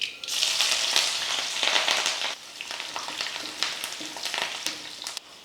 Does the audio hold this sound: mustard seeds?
yes